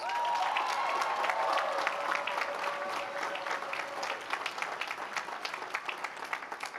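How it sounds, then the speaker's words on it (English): Warm audience applause rises at a university graduation ceremony for the Class of 2025, many hands clapping continuously from a distance with a brief voice at the start and the clapping thinning toward the end. "please join me in giving them a huge round of applause"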